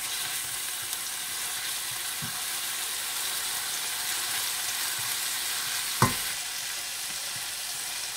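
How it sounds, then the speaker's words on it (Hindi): Ginger and garlic fry with onions in a pan, giving a continuous soft sizzle and hiss with occasional stirring scrapes and one sharp clink of a utensil against the pan. "जब प्याज हल्के सुनहरी माइल हो जाएं, तो आप इसमें अदरक लहसुन डाल दें और थोड़ा सा भून लें।"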